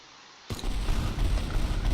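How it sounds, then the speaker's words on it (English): A sudden blast erupts in the game Teardown as a facility is destroyed, a heavy boom cutting in after half a second of near silence and rolling on as a dense, loud rumble of debris. "What lovely explosions I had."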